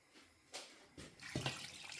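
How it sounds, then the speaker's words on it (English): Water splashes into a soup pot holding tripe, catfish and crayfish for Achi soup, first in short bursts and then a steady rushing pour that grows louder and fuller, close by, with no talk. "Add enough water for the soup."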